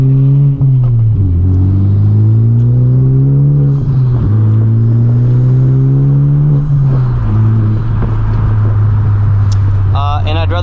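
Cabin sound of a Honda Civic Type R with a boost leak, driving along. A loud, steady engine drone climbs in pitch and drops back at each gear change, with road rumble underneath the whole time.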